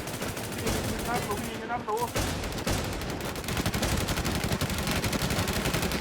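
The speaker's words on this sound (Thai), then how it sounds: "ดูดิเนี่ยผมยิงทุกเม็ดแล้วเว้ยมันไม่ตาย" Sustained automatic gunfire in an online multiplayer shooter, a continuous dense rattle of shots throughout, with a short whistling sound and a faint voice mixed in partway.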